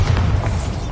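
Bombarda blasting spell from Hogwarts Legacy going off as a short, loud, low boom, a single heavy thud of about a second.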